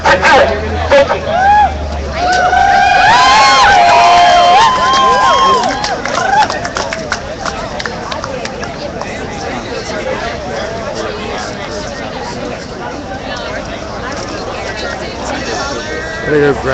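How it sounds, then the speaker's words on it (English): About a hundred people gather at a street protest against patriarchy, a loud babble of many voices and shouts filling the space, busiest early on and then settling into a steadier hubbub. "I think there's a crowd building up here now. We've got about 100 people"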